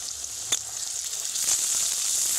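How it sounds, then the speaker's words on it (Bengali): Onions and whole cumin seeds frying in oil for an egg tadka, giving a steady, close sizzle that builds slightly louder toward the end, with a single soft clink early on and no voices. "পেঁয়াজটা ভাজা হতে হতে কিছুটা গোটা জিরে ওপর থেকে দিয়ে দেব।"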